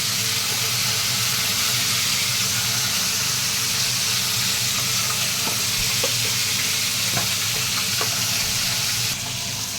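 Loud, steady sizzling of fish frying in hot oil fills the whole clip, with a few faint clicks near the end and no talking.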